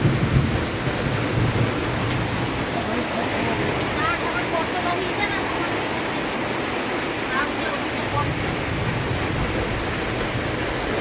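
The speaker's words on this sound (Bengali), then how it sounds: "আর আজকে বৃষ্টি মারাত্মক বৃষ্টি হচ্ছে।" Heavy rain pours steadily during a storm that is damaging a house, a dense continuous roar with a sharp crack of thunder early on and softer rumbles later, loud and close throughout.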